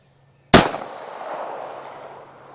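One sharp, loud report from a .380 Winchester Silvertip round fired in a Smith & Wesson EZ pistol cuts through near silence, followed by a long, fading outdoor echo.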